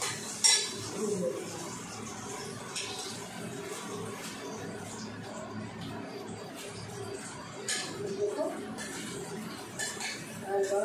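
Prawns sizzle lightly in oil in a pan while a spatula or spoon stirs them, with soft scrapes and clinks of metal on the pan under a steady low frying hiss.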